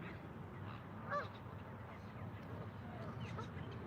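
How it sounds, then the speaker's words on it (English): Geese honk at a park on a quiet morning, a couple of faint distant calls over steady outdoor ambience, with a voice speaking nearby. "The geese."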